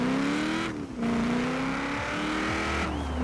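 The bored-out 5.2 liter V8 of a Hoonigan Bronco racing in Forza Horizon 4 roars loud and close, revving high through gear shifts with brief dips before climbing again.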